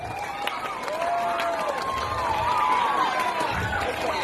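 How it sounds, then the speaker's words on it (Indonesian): Applause from the assembled audience for the flag-raising troop at a school flag ceremony marking National Teachers' Day and the PGRI anniversary, a steady outdoor crowd clapping, with a faint whistle-like tone and scattered voices underneath. "Lagi sekali tepuk tangan untuk Paskib saja."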